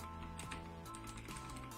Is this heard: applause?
no